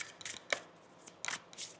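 Tarot cards are shuffled in a few quick, faint riffling bursts separated by brief pauses, close and quiet.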